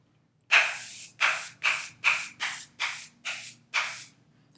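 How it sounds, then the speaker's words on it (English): An aerosol can of Milani Make It Last Microfine Mist setting spray fires eight short, even hissing bursts in quick succession. Each puff is close and crisp, with brief gaps between them and no talking. "it's the new Milani Make It Last Microfine Mist. So it's in like an aerosol can"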